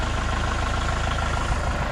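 A tractor's diesel engine runs at a steady, loud, low drone while its front bucket lifts the front end off the ground, with no voices.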